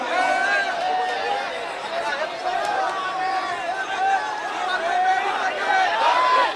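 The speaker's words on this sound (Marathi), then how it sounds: "या ठिकाणी गर्दी खूप आहे" A large, dense crowd packed around a political rally stage fills the air with loud, overlapping chatter and raised voices, a constant babble of many people speaking at once.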